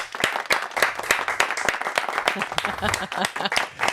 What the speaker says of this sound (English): a big round of applause, Miss Rhonda Shader